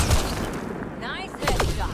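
Gunfire in the shooter game Mass Effect: Andromeda: bursts of shots and impacts mixed with other game effects, with voices talking over the action.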